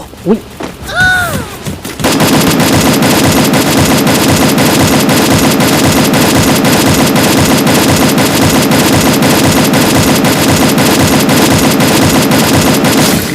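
Rapid automatic gunfire in the Free Fire mobile shooter game, a loud continuous stream of evenly spaced shots that starts abruptly after a brief quieter opening and runs without pause.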